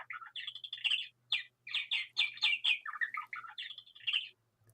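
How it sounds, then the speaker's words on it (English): A small bird chirps in the background with a steady run of bright, quick tweets and short trills that continue in bursts with brief pauses. "We have a wonderful voice in the Yes. background there. It's a little bird"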